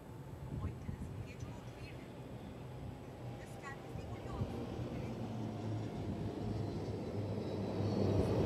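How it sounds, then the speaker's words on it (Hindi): HAL-built Dornier aircraft flying past during a naval ceremony for the indigenous warship INS Vikrant, a low droning engine rumble that grows louder toward the end while a commentator talks over it. "अब आ रहे हैं हिंदुस्तान एरोनॉटिक्स लिमिटेड द्वारा निर्मित डोर्नियर विमान"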